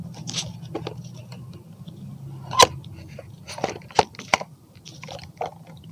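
Opening the phone holder on a drone remote controller gives close, crisp plastic clicks and snaps, a few sharp ones standing out among lighter taps and handling rustle.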